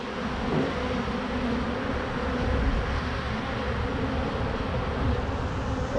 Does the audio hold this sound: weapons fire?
no